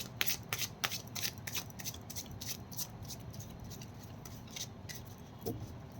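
A deck of cards being shuffled, rapid riffling bursts repeating in a quick, close rhythm with no talking.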